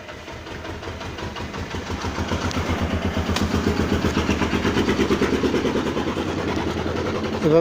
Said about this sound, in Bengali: দুইটা রাবারই আমি সেলাই করে নিচ্ছি